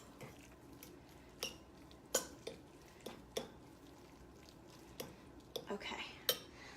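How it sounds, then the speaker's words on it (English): Spinach and feta mixture stirred in a pan for a Greek dish, with soft scraping and scattered clinks of a utensil against the pan, fairly quiet and close, no talk. "actually just gonna stir it a teeny tiny bit to release some of this heat in here"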